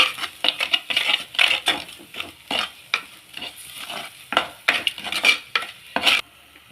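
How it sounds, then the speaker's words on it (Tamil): A spoon stirs and scrapes ground paste sautéing in oil in a pan, making repeated close metallic scrapes and clinks over a soft sizzle, with no talking. "உப்பு போட்டு ஃபஸ்ட்டு இதை எண்ணெயிலேயே வதக்கிடலாம்."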